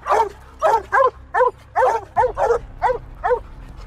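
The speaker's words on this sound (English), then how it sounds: "the dogs that keep harassing it with loud and constant barking" Dogs bark loudly and constantly to harass a cornered mountain lion, with about ten close, rhythmic barks in quick succession and some yipping mixed in.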